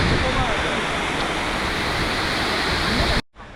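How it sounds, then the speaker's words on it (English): Na Mueang Waterfall in Koh Samui, Thailand, roars as a loud, steady wash of falling water up close, then cuts off abruptly near the end. "just arrived at Mueang Waterfall here in Koh Samui"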